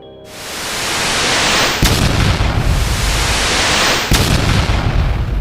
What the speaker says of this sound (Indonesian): menciptakan ledakan dahsyat yang mengguncang tanah